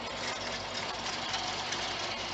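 Engine of a 2019 Roxor fitted with a turbo intake valve, running steadily under load while climbing a hill, a constant rough mid-pitched drone with faint knocking.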